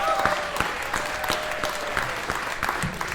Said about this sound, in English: Round of applause for these judges.